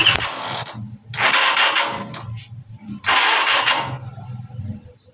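A motorcycle with a suspected misfire is started in neutral, with two loud cranking-and-catch bursts of engine noise separated by a lower idling rumble, close to the microphone.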